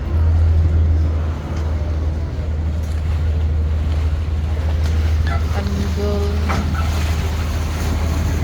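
A tour boat engine on a canal in Venice drones steadily at a low pitch with splashing water and wind, and a voice speaks briefly over the hum.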